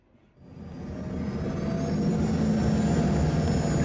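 An airliner's engines in the airplane crash survival game Prepare for Impact swell up from near silence into a loud, steady rumbling roar that holds to the end.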